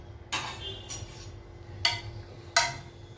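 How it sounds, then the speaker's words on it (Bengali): Pieces of bottle gourd go into a pot of dal, heard as four separate clinks and clatters of a utensil against the metal pot, spaced irregularly over a low background hum. "এবার এই লাউটা আমি এর মধ্যে দিয়ে দিচ্ছি।"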